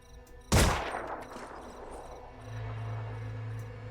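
A single loud gunshot from a pistol in the video game Phoenix Point, a sharp close crack that decays into a reverberant tail, followed by a low steady hum.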